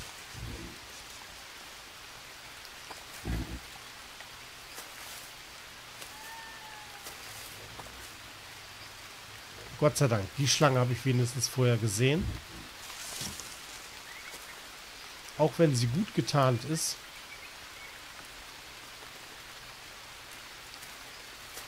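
Steady rain falls throughout in the jungle survival game Green Hell, a soft continuous hiss, while someone speaks briefly in a few short bursts over it.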